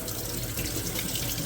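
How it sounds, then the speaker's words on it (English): Warm water runs from a tap in a steady, close, rushing stream that holds an even level for the whole moment. "And I'm gonna do warm water."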